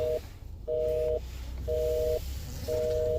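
A telephone line gives out repeated steady tones, four evenly spaced beeps with short gaps, like a call ringing through or a busy signal, over a faint background hum and no speech.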